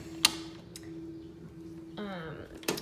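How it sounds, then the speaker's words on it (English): Door being opened in a bedroom, a click then a steady hum and a creaking swing, ending with a sharp latch knock, close and fairly quiet. "And let's open the door."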